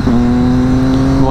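A Triumph Daytona 675 three-cylinder sport motorcycle idles close by with a steady, even engine hum that holds one pitch for the whole moment.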